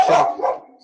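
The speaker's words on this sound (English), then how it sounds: "Apologize for the dog." A dog gives a single short, fairly loud bark close by, indoors at home.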